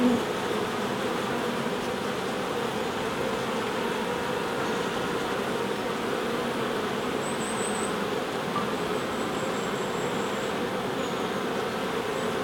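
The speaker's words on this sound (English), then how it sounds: "see if I can get in close on the bees" A dense, steady buzzing of many honey bees at a hive, continuous and close throughout, with no voices.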